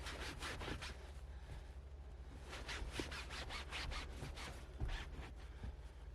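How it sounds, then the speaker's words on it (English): A microfiber towel rubbed back and forth over a car interior surface during detailing, giving quick, rhythmic scrubbing strokes up close, about a dozen swipes at fairly even pace. "we wipe it down with the microfiber"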